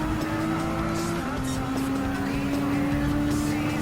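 A Gr.4 race car engine in Gran Turismo 7 at Dragon Trail Seaside, a steady loud in-car drone holding a sustained high revving note with slight pitch shifts through a corner.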